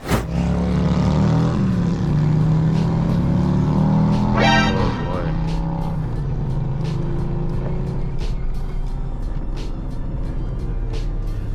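A right-hand-drive car engine revs and pulls away, its hum rising in pitch as it accelerates, then settling into a steady, loud cabin drone.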